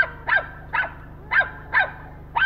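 A dog barks at two cats in short, sharp repeated barks, five evenly spaced yaps in quick succession, fairly close and standing out over a low steady hum.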